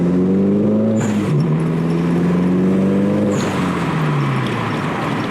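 Car fitted with an HKS blow-off valve and a JB1 boost controller revving and shifting through gears, engine pitch climbing twice, each shift marked by a brief hiss from the valve, loud and close from inside the car.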